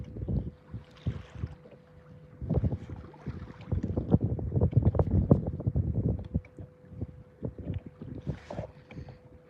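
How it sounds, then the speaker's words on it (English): Gusty wind blows over choppy open water about two and a half miles out on a fishing trip, coming in uneven, rumbling buffets against the microphone that rise and fall throughout with no talking. "It's kind of windy out here."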